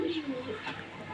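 Native pigeons kept in a wooden loft on a rooftop coo in short, soft, rolling calls close by, with a faint voice in the background.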